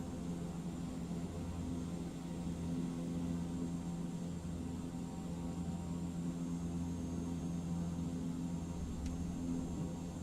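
A propeller airplane's engine drones steadily and loudly in Microsoft Flight Simulator 2024, an unbroken low hum with a whirring propeller tone throughout.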